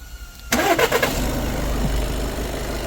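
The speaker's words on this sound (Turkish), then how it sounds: "ve marşa basacağız" An Audi A3 engine, just serviced with a new timing belt, cranks briefly with a few chugging pulses, then catches and settles into a steady low idle.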